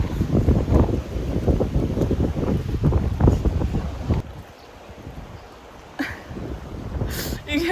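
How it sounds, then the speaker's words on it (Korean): Wind gusting across the microphone on the seashore at Gyeongju, a loud blustery rush with a calmer stretch partway through, and sea sounds faintly in the background. "바람."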